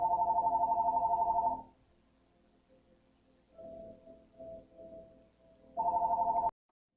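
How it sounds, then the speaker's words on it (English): Electronic phone ringtone with a rapid pulsing trill, ringing close for a burst, pausing through a quieter stretch of fainter tones, then ringing again before cutting off abruptly. "the phone rang in the middle of my build"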